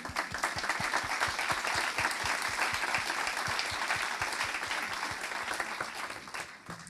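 An audience applauds a speaker at a talk on harassment, sustained lively clapping with a few distinct loud claps standing out, holding steady before easing off at the end.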